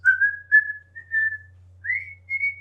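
A person whistles a short, bright tune in a few sustained tones with brief pauses between phrases, imitating a character, heard clearly and alone against a faint low hum.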